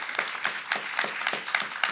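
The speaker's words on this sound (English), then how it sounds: "we can clap for that" A few people clap during a conversation on Black youth suicide prevention, soft, sparse hand claps at an even pace, fairly quiet and close.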